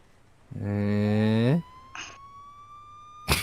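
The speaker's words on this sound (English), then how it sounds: "I hear the sirens." A police siren in the video game Police Simulator gives a short rising wail, then a brief chirp and a final sharp burst, fairly close and with no voices over it.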